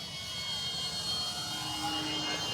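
A 1.5 m Kavan Pilatus PC-6 Porter radio-controlled model plane drones overhead, a steady moderate engine whine that stays even while it flies, no voices over it.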